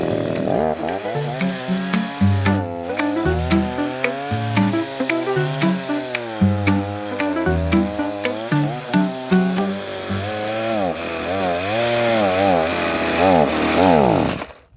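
Petrol chainsaw held in a jig, sawing firewood, runs loud and close, its engine pitch rising and falling as it bogs into the logs and revs out again, continuous for the whole stretch.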